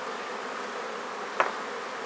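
Honey bees drone faintly and steadily inside a hive, with one brief closer buzz near the end.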